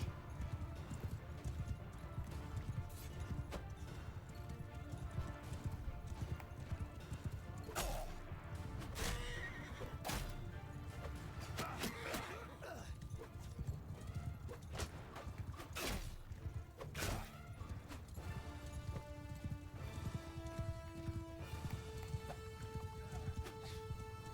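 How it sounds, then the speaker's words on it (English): Horses neigh and hooves clip-clop through a battle in the video game Mount & Blade 2 Bannerlord, amid a dense, continuous wash of combat noise with sharp clashes scattered throughout. "Go cut his horse down."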